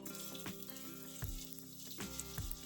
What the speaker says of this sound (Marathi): तेल गरम झाले, आपण त्याच्यामध्ये कांदा टाकून घेऊया